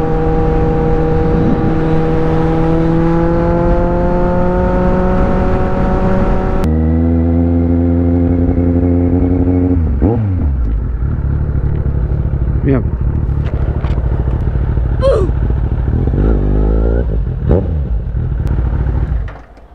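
A motorcycle engine hums steadily while riding, then shifts to a lower idle-like drone with scattered clicks and clatter as the bike slows; people talk throughout over the engine.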